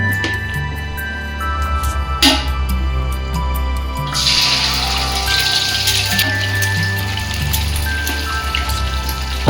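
Oil poured into a large pan while making fried rice gives a steady, loud, close crackling patter like rain, with a low hum underneath throughout.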